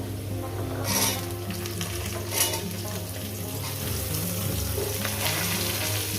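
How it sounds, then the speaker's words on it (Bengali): Drumsticks (sajne data) frying in a pan with potatoes for a Bengali fish curry, a steady close sizzle with a few brief clattering stirs, and no talk. "ডাটাগুলো দিয়ে ভাজবো আমি"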